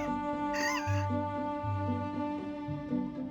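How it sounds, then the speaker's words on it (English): A young rooster crowing with a raspy, strained voice, one drawn-out crow heard close over a steady tonal hum. "Meet my rooster."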